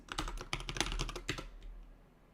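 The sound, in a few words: typing on a computer keyboard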